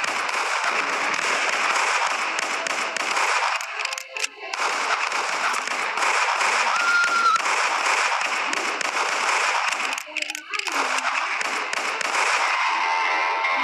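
Repeated pistol shots fired in a western-themed sniper video game, sharp cracking reports spread through a dense, loud stretch of game audio with a couple of brief gaps.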